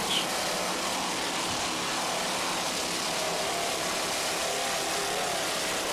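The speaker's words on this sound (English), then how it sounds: "Just listen to those Stotler racing engines." Offshore powerboat racing engines made by Stotler, D class boats at the 1993 US Offshore Worlds in Fort Lauderdale, give a steady, dense broadband roar that runs unbroken throughout at moderate, somewhat distant loudness.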